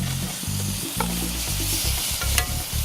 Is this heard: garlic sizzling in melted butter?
yes